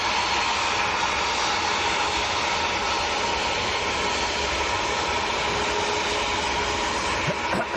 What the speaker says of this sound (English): the planes are very loud this morning